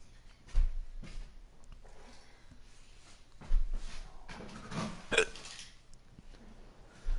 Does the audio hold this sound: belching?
yes